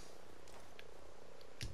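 Enemy drone in the video game Ghost Recon Breakpoint, a steady, even buzzing hum that holds throughout with no talk, ending in a short thump.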